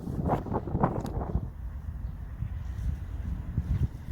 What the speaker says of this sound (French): C'est hyper calme, là il y a un peu de vent